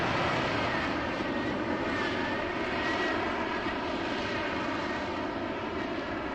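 F/A-18 jet engine idling on an aircraft carrier deck in a VR flight simulator, a constant loud, dense roar with a steady whine layered on top, unbroken for the whole stretch with no speech.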